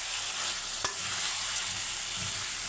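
Chicken pieces sautéed with spices in a pan give a constant bright sizzle, with a single sharp utensil tap and a few low scraping stirs.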